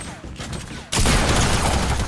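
Gunfire from the Fortnite video game erupts after a short quiet stretch as a loud, dense burst of close-range shots that fills the rest of the moment.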